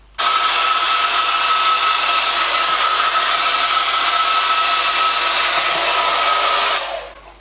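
A hot air brush dryer smooths hair with a loud, steady blowing whir that starts abruptly, holds constant for about six and a half seconds, then cuts off, close and alone without talk.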